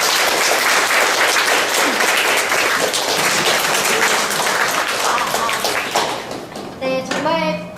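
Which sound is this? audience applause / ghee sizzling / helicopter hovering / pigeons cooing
audience applause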